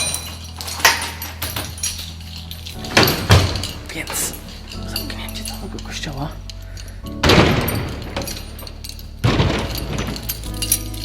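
Doors in a church sacristy are closed and locked, with several heavy thuds, latch clunks and key jingles spread irregularly over a hollow room tone, while a person talks in between.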